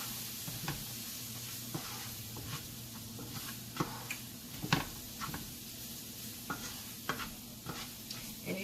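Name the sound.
stirring flour into frying onions in a pan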